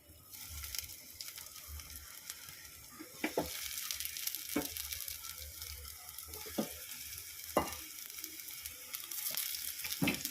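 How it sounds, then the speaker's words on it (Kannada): Potato and cauliflower cutlets shallow-frying in hot oil on a flat tawa, a steady close sizzle and crackle with scattered sharp pops and spatters that grow busier as pieces are added. "ಎಣ್ಣೆ ಹಾಕಿದ್ದೀನಿ ಕಾದಿದೆ ಈಗ ಒಂದೊಂದೇ ಇದರಲ್ಲಿ ಇಡೋಣ"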